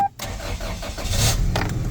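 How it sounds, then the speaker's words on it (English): A truck engine, being checked for a blown head gasket, cranks and catches, then settles into a rough idle nearby, with a brief electronic beep at the very start. "Let's go turn on the truck."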